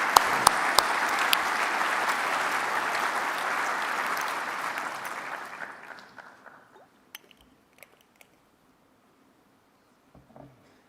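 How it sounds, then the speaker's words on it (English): Large convention audience of over 2,000 people applauding steadily for about five seconds, then the clapping fades out, leaving a few scattered claps and faint room noise. "A round of applause."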